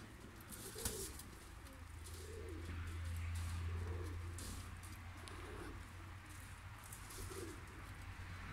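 Pigeons coo softly in a slow, repeating rhythm beneath a low steady hum, with an occasional faint chirp.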